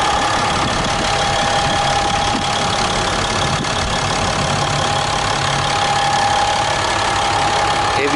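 A RAM 2500 Laramie crew cab 4x4 with a 6.7 liter Cummins turbo diesel idles close by in a loud, steady rumble with a faint knocking clatter and a constant whine, without any talking.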